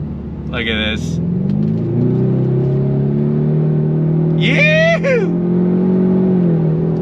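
A 2024 Ford Mustang EcoBoost with a 10-speed automatic pulls hard from a dead stop, its engine rising and droning steadily through quick shifts, loud inside the cabin, while people inside speak and whoop excitedly over it.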